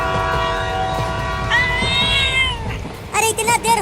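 A cat gives a drawn-out meow over a loud rumbling train background, followed by shorter, higher mewing toward the end.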